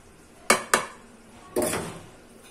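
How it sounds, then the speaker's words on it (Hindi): Dry ground spices, coriander, garam masala, red chilli and salt, are mixed in a bowl with a spoon: two quick close clinks, then a short scraping stir, with no talking. "अब इसको मैं मिक्स कर दूंगी।"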